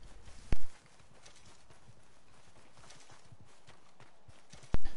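Horse hooves clip-clop steadily at a walking pace in the video game Red Dead Redemption 2, faint and even under a soft ambient bed, with two sharp loud clicks near the start and the end.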